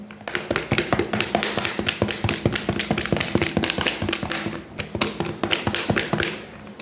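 A hand-operated vegetable chopper cuts food into pieces, giving rapid steady tapping and clattering blade strikes, close and loud, with a brief pause near the end.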